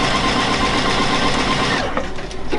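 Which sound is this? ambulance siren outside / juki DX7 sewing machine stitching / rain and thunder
juki DX7 sewing machine stitching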